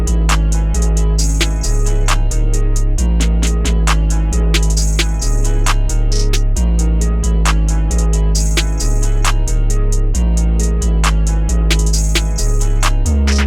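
Rage beat with guitar chords and a top melody panned left and right, full effects added over thumping heavy bass and crisp rapid hi-hats, loud and steady with no talking.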